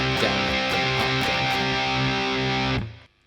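A distorted electric guitar strums a song in a quick down-down-up pattern, loud and close, before stopping abruptly near the end.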